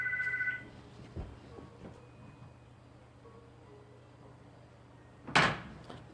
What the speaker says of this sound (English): Sorry about that. My phone rang. Not my cell phone,